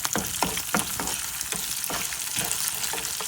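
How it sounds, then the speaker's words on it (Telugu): Sesame seeds and cumin sizzle steadily in a hot pan while being fried for a green apple pickle, with soft stirring scrapes and ticks over a constant crackle. "వన్ టేబుల్ స్పూన్ నువ్వులు ఇవి కూడా చక్కగా వేయించేసుకోండి"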